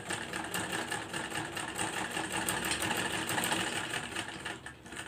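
Sewing machine stitching around a round neck design, a steady continuous whirring run at even speed, close and dense, with no one speaking.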